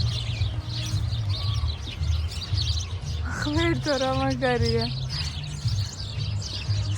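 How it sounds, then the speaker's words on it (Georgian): Outdoor birds in autumn give a short burst of bright, rapid chirps midway. The calls are close and clear over steady background hum, and a person talks during the clip. "ეს ჩიტების ჟღურტული გესმით?"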